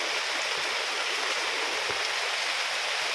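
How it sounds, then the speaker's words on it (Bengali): Rainwater pours steadily off a roof during heavy rain, a dense continuous splashing hiss that stays even and close throughout, with no voices. "এই দেখতে পাচ্ছেন ছাদের জল পড়ছে।"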